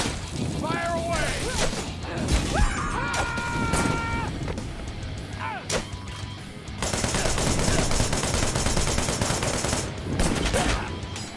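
Continuous automatic gunfire from a magazine being emptied in the hack-and-slash shooter game Wanted: Dead, loud and close, with dense rapid bursts, booms and metallic clanks, alongside speech and electronic tones.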